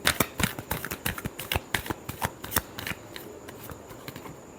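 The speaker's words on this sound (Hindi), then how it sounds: "Last shuffle." Tarot cards are shuffled by hand close up, a quick run of crisp riffling snaps and flutters in uneven bursts that thin out toward the end, with no talking.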